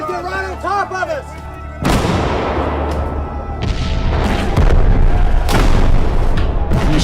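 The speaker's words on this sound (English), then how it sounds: "The Michigan men fire 64 rounds." Civil War reenactment artillery, a Michigan battery firing cannon rounds. A short vocal passage comes first, then several heavy, echoing booms follow one another at irregular intervals, loud and close, with rumbling tails between the shots.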